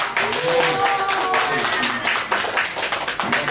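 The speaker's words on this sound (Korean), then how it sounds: "우리 축하 박수를 한번 더" Congregation clapping in celebration at a Korean church Christmas service, a short burst of claps mixed with voices and talk rising over it.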